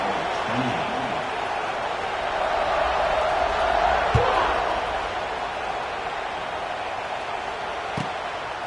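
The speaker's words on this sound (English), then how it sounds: "this crowd is buzzing after that last score" Stadium crowd in a college football video game, Oklahoma at Clemson, buzzes as a steady, fairly loud roar of many voices, with a commentator talking over it and a couple of brief thuds.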